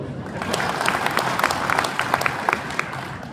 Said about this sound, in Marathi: एकदा फटाक्याच्या टाळ्या वाजवा